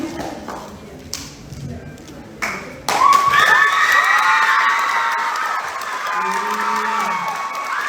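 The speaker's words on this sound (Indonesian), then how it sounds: "Terima kasih banyak tepuk tangannya." An audience at a school student council candidate debate breaks into cheering and clapping, with children shouting. The noise swells suddenly after quieter murmuring and stays steady to the end.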